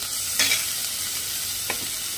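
Leftover chicken seasoned with black pepper powder sizzles steadily in a frying pan, a constant close hiss broken by two brief scraping stirs, no talking.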